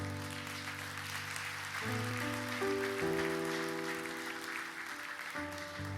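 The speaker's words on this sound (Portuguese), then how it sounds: "Pode aplaudir" Applause from a congregation during a church service, a steady wash of clapping that carries on for several seconds under sustained organ or keyboard chords.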